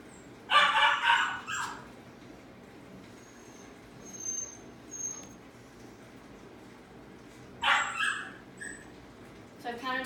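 A puppy barks in two short bursts several seconds apart, with faint yips and quiet pauses between them.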